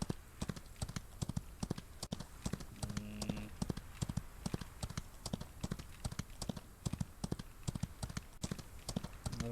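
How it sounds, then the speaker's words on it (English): Rapid, even hoofbeats of a horse clip-clop continuously in the Wild West video game Outlaws of the Old West, crisp and fairly close, with nobody talking. "Ah, it's a horsey."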